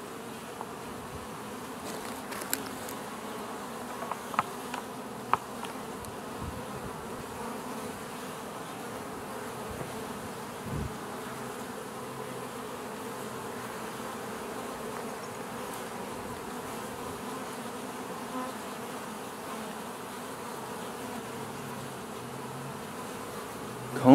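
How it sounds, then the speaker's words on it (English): A dense, steady drone of many honey bees buzzing close by in a hive, a continuous hum with no talking. "Oh my, that's a lot of bees."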